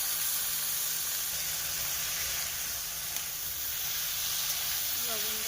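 Cumin, chili and turmeric powder frying in hot oil give off a steady, even sizzling hiss that lasts throughout at moderate level, with no voices.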